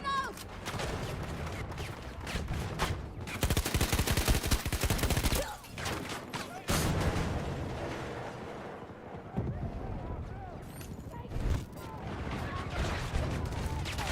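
VHX D3 rifle fire in a Battlefield 2042 match on the Haven map, bursts of rapid gunshots mixed with distant battle fire and explosions, a dense loud barrage in the middle stretch, with voices talking over it.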